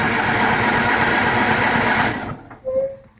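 The engine of a John Deere 210 lawn tractor runs at a steady, rough idle close by, fuelled from a dirty tank, then cuts off abruptly, followed by a brief squeak and some faint rustling.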